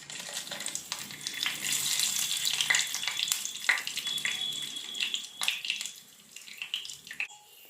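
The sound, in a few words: whole spices frying in a pan for prawn biryani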